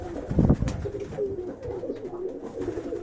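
A feisty pigeon in an aviary coos in soft, low rolling notes repeated over a few seconds, fairly close, with a brief rustle of movement near the start.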